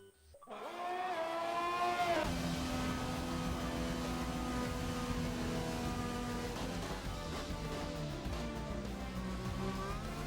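Formula 1 race cars in a video game at the Belgian Grand Prix, engines droning loudly and steadily with rising and falling pitch as the pack sweeps past, a continuous roar after a brief quiet start.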